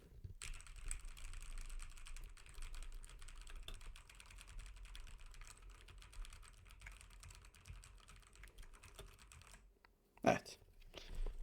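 Steady, rapid keyboard typing close by, a continuous clatter of keystrokes that pauses near the end before a few louder knocks.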